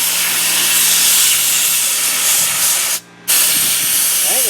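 Harbor Freight portable soda sand blaster gun spraying with a loud continuous air hiss, briefly cut off for a moment before resuming close up.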